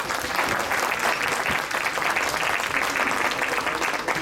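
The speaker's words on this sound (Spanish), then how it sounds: "démosles un fuerte aplauso" Applause fills an audience hall at a peace education event, dense steady clapping from many hands lasting several seconds at moderate volume.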